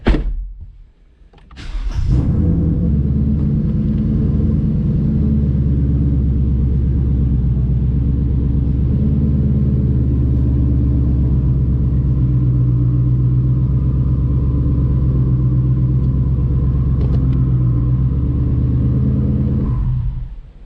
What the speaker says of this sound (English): we're gonna pull up onto the scales